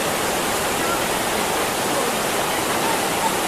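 Broadband, steady rush of river water flowing at Sungai Rayap in Aceh Utara, a continuous loud wash with no pauses and no voices.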